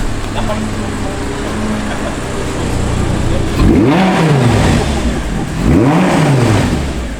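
An Audi R8 sports car engine revs twice in quick succession, each a loud rising and falling blip over an idling rumble, while people talk nearby.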